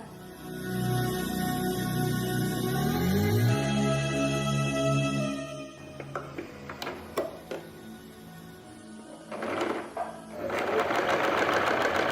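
A Singer sewing machine sews vest armholes, running in a fast steady whir for several seconds, then stopping and starting in short bursts with ticking clicks before a final steady run, close and clear.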